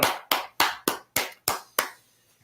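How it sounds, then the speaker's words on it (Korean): An audience claps together in unison to open a Bible chronology class at a church, seven sharp, evenly spaced claps in a row, each ringing briefly before fading into quiet. "박수로 시작하도록 하겠습니다."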